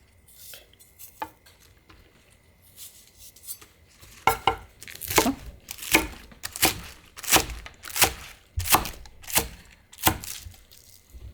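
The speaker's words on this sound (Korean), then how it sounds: "이렇게 머리 부분 굵은 거는요. 이렇게 한번 칼집을 넣어주세요." A knife cuts slits into the thick head ends of washed cucumbers on a board, starting with a few scattered taps and settling into a regular run of about ten crisp, close chops, with no voices.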